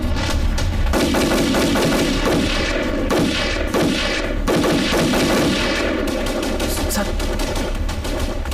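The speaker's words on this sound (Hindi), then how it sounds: "फायरिंग हो रही है।" Gunfire in a Hindi war film: dense, continuous bursts of machine-gun fire and rifle shots, loud and sustained with heavy thuds throughout, no clear speech.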